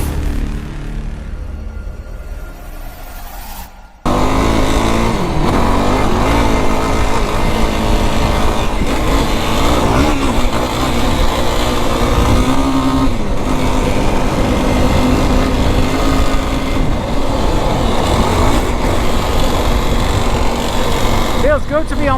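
A Yamaha YFZ 450R quad engine revs hard while riding a loop, a loud, continuous close buzz that rises and falls through the gears after a brief quieter idle at the start.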